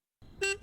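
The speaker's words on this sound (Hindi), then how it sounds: "देखो कोई बाहर हॉर्न बजा रहा है।" After a moment of silence, a faint rumble gives way to two short honks of a car horn outside, the second cut off.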